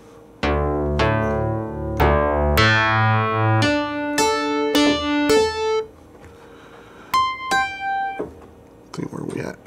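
Synthesizer patch played on a Korg Kronos MOD-7 and a Yamaha SY99: loud, rich chords and notes that start with sharp attacks, then shorter, bright plucked tones with gaps between them, ending in quieter scattered noise.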